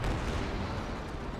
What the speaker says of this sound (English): Suicide Barrage raining on in